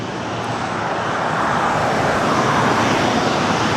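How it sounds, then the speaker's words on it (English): A Boeing 737-800 airliner taking off, a loud, steady broadband jet roar that swells slightly as it climbs away, with no talk. "1696 taking off to Las Vegas on a 737-800."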